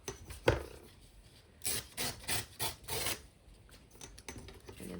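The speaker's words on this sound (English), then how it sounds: "I'm just going to fold it in about 1/4 of an inch in, and I'll just tear that up" Folded paper being torn along its crease in several short rasping bursts, close and fairly quiet, with brief pauses between pulls and no talking.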